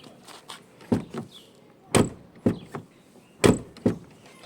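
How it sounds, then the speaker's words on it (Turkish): Several sharp thuds and clicks of a Hyundai Accent Blue car door being shut and handled, spaced irregularly and close by, in a quiet setting. "Şöyle tam kapatalım kapıyı."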